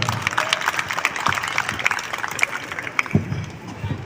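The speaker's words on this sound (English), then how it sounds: "Let's clap for him." Audience clapping at an Independence Day celebration in a residential society in Indirapuram, a steady spread of applause lasting several seconds, moderately loud with scattered sharper claps and crowd murmur underneath.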